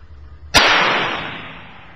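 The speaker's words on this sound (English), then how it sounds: "Once you are comfortable and ready to fire, move the safety to the firing position and align your sights on the target." A single sharp, loud firearm shot rings out at a target outdoors, a sudden crack followed by a long decaying echo that fades over more than a second against quiet.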